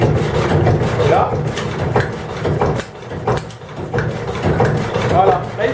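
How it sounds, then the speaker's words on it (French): A Dutch tjalk barge's engine runs steadily, its rumble filling the compressed air tank on board, with someone speaking French close by over the continuous mechanical noise. "Le moteur lui-même met de la pression dans le bouteille d'air comprimé."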